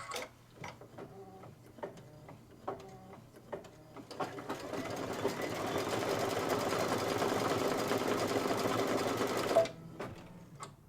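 Brother embroidery sewing machine running a blanket stitch on a quilt appliqué: rapid mechanical stitching chatter, first in short separate bursts, then a steady continuous whir for several seconds before stopping, close and alone.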